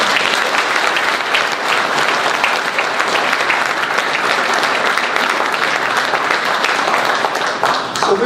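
A crowd applauds steadily and loudly at a re-election speech event for a city councilman, with dense sustained clapping filling the whole stretch and no break.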